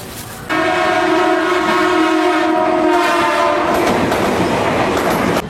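A train at Tebet railway station in Jakarta sounds a long, loud horn blast after a quieter start, with rumbling rail noise continuing close by to the end.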